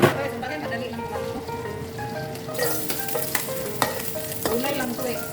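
Bottle gourd sautés in hot cooking oil, a steady sizzle with stirring scrapes and clinks of a utensil against the pan, close and continuous.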